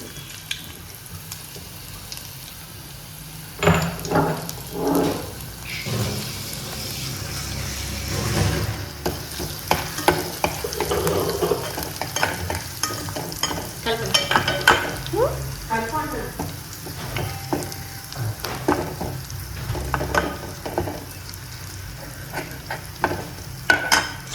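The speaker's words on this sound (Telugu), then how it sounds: "అల్లం వెల్లుల్లి పేస్ట్ వేస్తున్నానండి" Ginger garlic paste fries in hot oil in a pan for chilli boondi curry, with steady sizzling and repeated scraping stirs, close and fairly loud.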